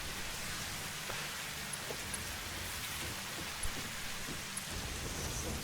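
Steady rainfall in the game Satisfactory, a constant dense hiss of rain with scattered faint drop ticks and no voices.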